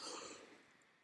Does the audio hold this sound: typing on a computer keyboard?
no